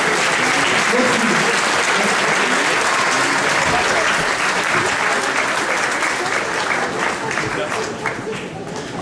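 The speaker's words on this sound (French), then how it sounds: "on l'applaudit très très fort" Loud, dense applause from a conference audience filling a hall, sustained for several seconds and easing slightly toward the end.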